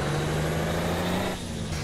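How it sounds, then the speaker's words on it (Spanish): A Kenworth W900 truck engine brake in American Truck Simulator gives a loud, steady, low droning rumble with a rough, pulsing texture, then dips slightly near the end. No one speaks over it. "escuchen ese freno de motor"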